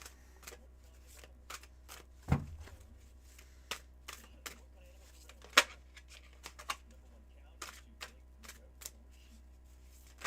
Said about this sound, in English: Let me do a cleansing shuffle.